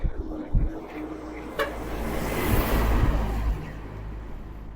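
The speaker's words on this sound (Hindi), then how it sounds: "बहुत तेज़ हवा है यहाँ पे।" Strong wind blows outdoors on a roadside walk in Pakistan, a broad rushing roar that swells and buffets close to the microphone, with brief thumps and a person speaking over it.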